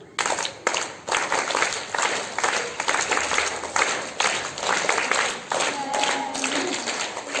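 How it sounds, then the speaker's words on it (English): A school assembly claps together on command during Independence Day program rehearsals, with several sharp, evenly spaced bursts of clapping rising and falling across the clip, sounding big and roomy with crowd noise underneath. "1, 2, 3, claps, go."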